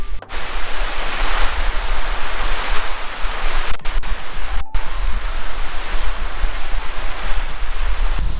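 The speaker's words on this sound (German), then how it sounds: "Bisschen Wasser im Hintergrund" Loud, steady rushing water fills the scene, a broad continuous roar like surf or a waterfall heard close, with a couple of brief dropouts.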